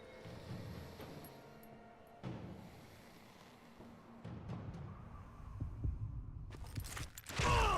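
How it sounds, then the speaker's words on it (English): Heartbeat before a gunfight duel in the Western shooter Call of Juarez: Gunslinger, a low muffled thumping pulse repeating under a droning game soundscape, growing louder toward the end. "when you hear your heartbeat, you're ready to shoot"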